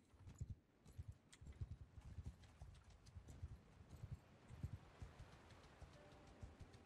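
Horses' hooves clip-clop in the video game Mount & Blade II: Bannerlord, a steady run of soft, quiet thuds from several mounts moving together with no talk over them.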